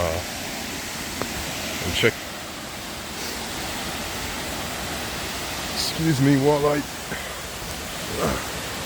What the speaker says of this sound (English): But this is the first waterfall.